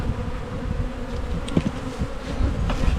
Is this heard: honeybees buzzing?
yes